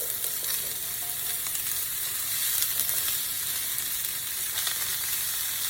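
Onions and green peppers fry in a pan as a steady, close sizzle with light crackling throughout, and no voices.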